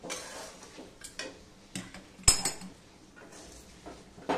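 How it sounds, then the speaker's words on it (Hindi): Roasted peanuts are scooped out of hot salt with a perforated strainer spoon in a home kitchen, giving scattered metallic scrapes, light clinks and one sharper clang against the pan. "एक झाली वाले बर्तन से या तो फिर आप स्पैचुला से भी निकाल सकते हैं"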